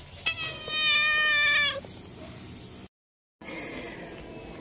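A cat gives a long, drawn-out meow close by, followed by quieter background noise and a brief dropout.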